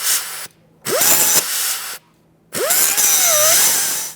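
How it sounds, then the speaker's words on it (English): A cutting wheel grinding through a sway bar end link bolt on a 2001-2005 Honda Civic, three loud close bursts of harsh grinding with pitch sweeps as the wheel spins up and bites, separated by brief silences. "Now that we ground off the front side here"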